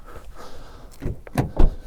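Door of a Lexus GX 550 being shut, giving two or three solid, muffled thumps close by with a short pause between them and no talk over them.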